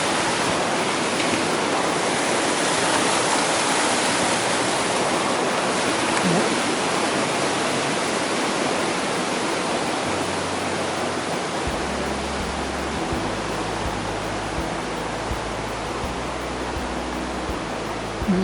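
Mountain torrent on the GR20 trail in Corsica, a loud, steady broadband roar of rushing water lasting throughout, with faint low rumbles toward the end.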